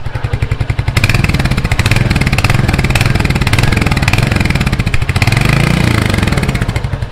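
A Royal Enfield Hunter 350 single-cylinder motorcycle idles with a steady, loud, close thumping beat, pulsing evenly throughout with slight swells as it is revved, no talk over it.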